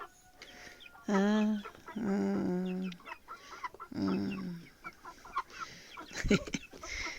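Leghorn hens and roosters in a backyard flock cluck and call close by in a few loud, drawn-out bursts, with quieter rustling and shorter clucks between them.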